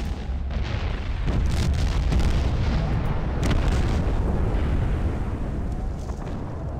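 Artillery strike explosions in the dinosaur-hunting game Carnivores, a dense, continuous rumble of heavy booms and blasts filling the whole stretch at steady loudness, with no talk over it.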